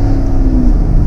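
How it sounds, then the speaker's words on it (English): Chevrolet Corvette sports car engine droning steadily at close range, a loud, continuous low exhaust note with no breaks and no talk. "Oh, and I love the exhaust note. Oh, it sounds so good."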